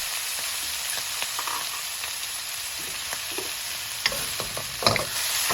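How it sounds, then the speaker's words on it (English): Beef tripe sizzles steadily in a pan over high heat while being stirred, with a continuous frying hiss and occasional scraping clicks of the utensil, close and clear with no talking. "Cook, stirring constantly for about 2 minutes."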